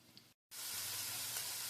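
Onions frying in a pan for French onion pasta, a steady close sizzle with a brief break before it resumes loud and even.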